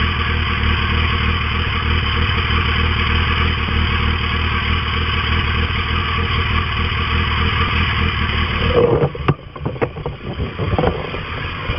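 A Yamaha Turbo motorcycle engine runs at a steady, loud idle throughout, a dense continuous rumble that briefly roughens and dips near the end, with no talk over it.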